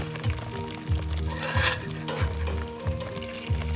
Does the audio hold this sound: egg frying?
yes